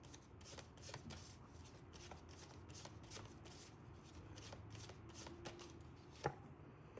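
Tarot cards shuffled quietly and continuously for several seconds, soft rapid riffling flutters with a brief snap near the end, close and faint, with no talking.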